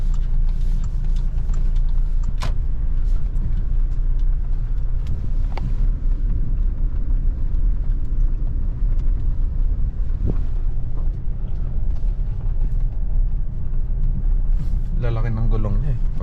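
Toyota Hilux G 2.8 pickup driving off-road, a steady low rumble of engine and tyres over rough ground with wind buffeting the microphone throughout and a few scattered knocks, while people talk over it.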